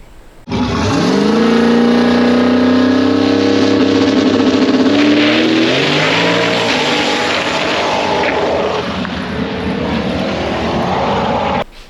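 A race car tears down the track on a fast drag pass, its engine roaring loud and close for the whole run, the pitch climbing and shifting as it accelerates with no voices over it.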